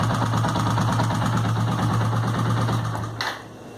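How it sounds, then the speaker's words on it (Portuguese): A motorcycle engine idles with a rapid, steady mechanical ticking from a suspected valve or camshaft fault, heard close and continuous before a brief shift near the end. "O barulho vem daqui, ó. Provavelmente seja uma válvula,"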